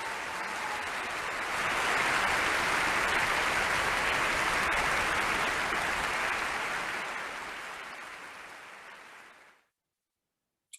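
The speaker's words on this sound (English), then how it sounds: "How about a round of applause for our volunteers?" A congregation at a religious society service applauds volunteers, a dense, even burst of many hands clapping that swells, holds, then tapers and cuts off abruptly into silence.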